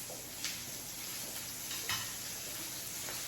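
Food searing in a pan as part of a Valentine's Day meal, a faint steady sizzle with a couple of soft utensil taps, quiet and close, with no talking.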